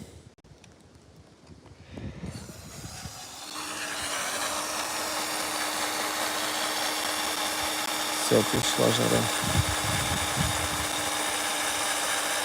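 A power drill whines steadily at a high, constant pitch through metal during a field repair, with brief clanks and a short spoken remark near the start.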